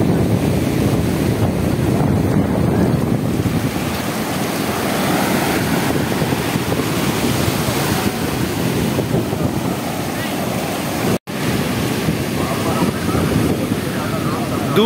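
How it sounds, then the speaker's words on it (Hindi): Ocean waves and strong wind at Baga Beach in Goa make a loud, continuous roar with wind buffeting the microphone, steady throughout apart from a momentary dropout. "दूर दूर तक जहाँ देखोगे वहां तक आप ऊंची ऊंची लहरें देखोगे।"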